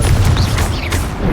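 The Confringo blasting curse detonates in Hogwarts Legacy with a loud, heavy booming explosion, dense low rumble and debris crackle filling the whole short moment.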